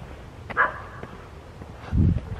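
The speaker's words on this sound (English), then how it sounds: "The dog's coming running for me." Dog out with its owner on a residential street at night during Christmas light viewing gives a brief yelp, followed later by a low thump, against faint outdoor background noise.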